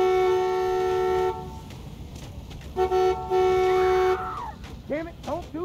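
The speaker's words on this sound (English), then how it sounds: "Can I go to the truck and hit the horn?" A truck horn sounds in The Walking Dead video game, a sustained loud blare that cuts off and comes back in long blasts, then breaks into short toots, with speech and a descending tone in between.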